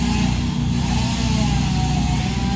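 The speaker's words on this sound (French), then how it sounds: "j'ai les voisins qui sont en train de tailler leur haie" A neighbour's motorized hedge trimmer cuts a hedge as a continuous, buzzing engine drone that stays steady and fairly loud throughout, with no pauses.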